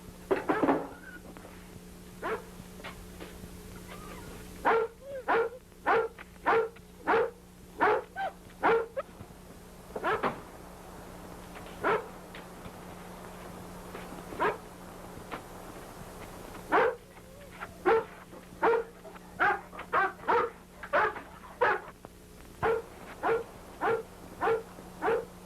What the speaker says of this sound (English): I wonder what's the matter with the mutt. What's he yapping about?